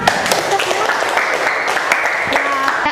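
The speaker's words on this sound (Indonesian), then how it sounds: "Tepuk tangan." Brief burst of classroom applause for a student who has just summarized a lesson during a teacher-training session, steady clapping with faint voices mixed in.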